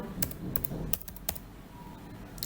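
Keys tapped on a computer keyboard to enter a short word, a quick burst of several close, clicky strokes with no talk.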